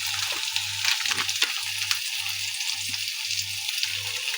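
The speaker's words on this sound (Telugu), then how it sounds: "ఇది బాగా ఫ్రై అయిపోయిందండి ఆయిల్ కూడా పైకి వచ్చింది కదా" Masala sizzles and fries steadily in oil for a cauliflower and bean kurma, a close, continuous crackle with faint stirring scrapes.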